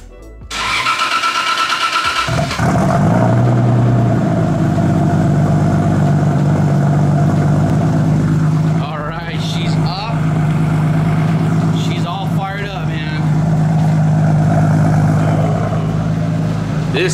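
A 2JZ engine swapped into a Datsun 260Z cranks briefly, catches and settles into a loud, close idle with a rough, lumpy rhythm and occasional revs. Voices come and go over the engine.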